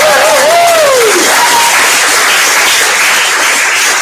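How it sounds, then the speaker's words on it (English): Loud, dense applause from an audience at a book launch for an anthology, continuous broadband clapping filling the space, with a brief pitched tone sliding at the start. "a round of applause for Zoe, who's not here and I hope is watching, but also for Lucy and Ruby"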